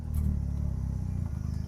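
Engine of a first-generation Mazda RX-7 (FB/SA22C) rotary car, cold, buzzing steadily against the rev limiter in a loud, close, stuttering drone.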